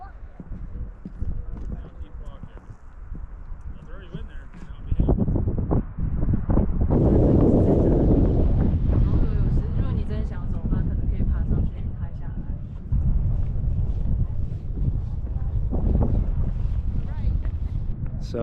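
Wind gusts at Yellowstone, buffeting the microphone with a continuous low rumble that swells and eases, loud and close, with a voice talking partly beneath it.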